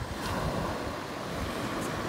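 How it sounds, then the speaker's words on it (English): Waves crash on a Great Lakes shore in Michigan, a steady, loud, full roar of surf with wind noise, continuous throughout with no voices. "Wow, they're really crashing now. As big as lake waves get, you know."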